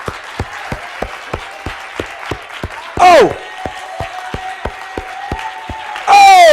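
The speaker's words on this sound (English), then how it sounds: "Come on, let's clap for Jesus for your life." A church congregation claps in a steady, even beat, sharp individual claps repeating about three times a second, with voices calling out loudly twice over the rhythm.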